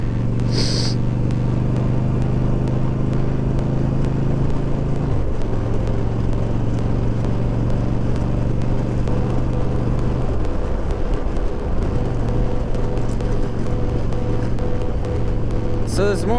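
Inside a moving car, a steady engine and road drone runs throughout with a low hum that dips and shifts in pitch as the speed changes, and music or voices are faint in the cabin.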